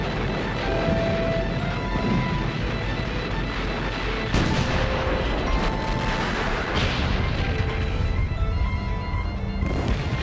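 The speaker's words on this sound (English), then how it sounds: "The Germans hit the British with 1 million shells in just 5 hours." Continuous rumbling barrage of artillery shells in a 1918 German offensive on British lines, dense distant booms with a few sharper close blasts over a steady roar.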